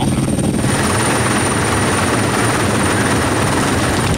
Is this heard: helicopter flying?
yes